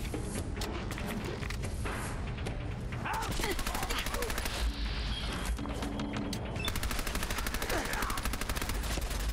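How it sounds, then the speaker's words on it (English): In Fallout 4, the player fires repeated gunshots in rapid bursts and scattered single shots, loud and close, with footsteps and game effects between and some voice in the background. "I shot everywhere but where I needed to aim"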